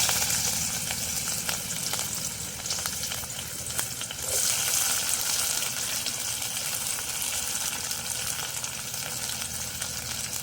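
Large onions fry in oil in a pan during the making of a tender jackfruit milk curry, a dense continuous sizzle with light stirring, steady and close for the whole stretch, no talking.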